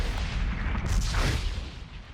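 Depth charges exploding in the 1981 submarine film Das Boot, a deep muffled underwater boom that swells and rumbles for about two seconds.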